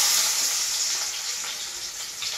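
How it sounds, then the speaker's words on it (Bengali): Chopped onions sizzle steadily in hot oil in a home kitchen pan, a dense, bright frying hiss that holds loud and close throughout with no talk. "তেলটা গরম হয়ে গেছে, এবারে আমি দেবো 2টা কাটা পেঁয়াজ।"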